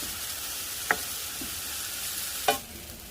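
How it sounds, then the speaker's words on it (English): Onions sautéing in a pan give a steady low sizzle, broken by two brief louder scrapes or stirs; no one talks. "And saute until the onions are translucent."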